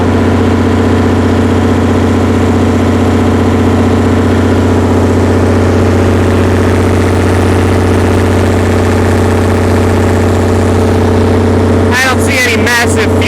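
A Perkins diesel generator engine idles steadily at no load after an injection pump install, a loud, constant low throb with a brief burst of clattering noise near the end.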